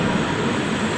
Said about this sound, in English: Hlavni Nadrazi means train station.